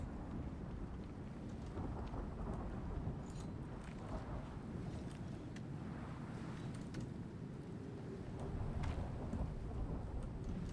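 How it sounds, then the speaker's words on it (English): A thunderstorm in the survival game Icarus rumbles low and continuous, with faint wind and rain noise rolling steadily at a distance and no clear single crack. "Wow, that storm is really loud."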